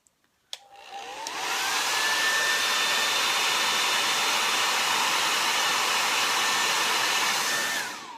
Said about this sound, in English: now I'm going to show you what it looks like after I blow dry them